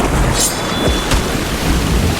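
Heavy rain pours steadily, loud and close, with a sharp crack of thunder cutting through the downpour and no voices.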